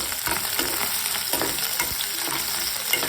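Fenugreek leaves fry in a pan with a continuous close sizzle, and the spatula scrapes and stirs through it in repeated light strokes at a moderate level.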